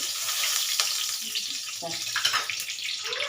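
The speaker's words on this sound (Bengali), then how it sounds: "প্রথম দিয়ে দিচ্ছি আমি দুটো শুকনো লঙ্কা" Two dried red chillies hit hot oil, giving a loud, close, hissing sizzle with crackling bursts that swell and spatter unevenly throughout.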